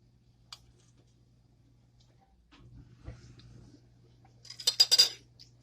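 A spoon dips into a pot of turkey stew, giving a soft scrape, then a quick burst of bright metallic clinks against the pot near the end, over a low steady hum.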